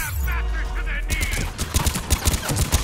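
Rapid bursts of gunfire from a Mass Effect 3 firefight, loud and dense in the second half, with sharp repeated shots over a steady game background.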